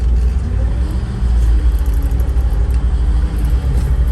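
A car engine idles in neutral with a deep, steady rumble that swells slightly as it is revved, close and loud without any speech.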